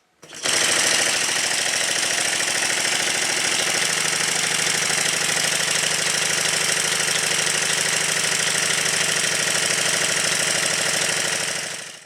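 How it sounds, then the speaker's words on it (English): A small Stuart model triple expansion steam engine runs steadily at high speed, a rapid, even mechanical chugging and clatter that starts abruptly, holds constant, then cuts off. "you can really hear what the engine sounds like"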